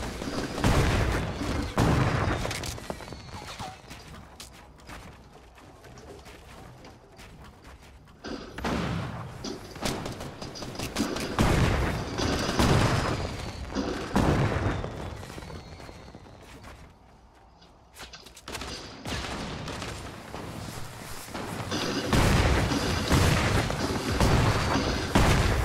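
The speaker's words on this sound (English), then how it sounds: "where the heck are these guys shooting at us from anyway?" Gunfire in the video game Fortnite: bursts of rapid shots and heavy booms arrive in waves, some loud and close, others quieter, with short lulls between the volleys.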